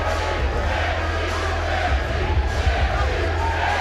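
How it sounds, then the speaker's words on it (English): Fight arena crowd at a World Series of Fighting bout, on its feet cheering and chanting Gaethje's name: a loud, continuous roar with rhythmic surges of voices throughout. "This crowd is on their feet. They are chanting Gaethje, Gaethje, Gaethje."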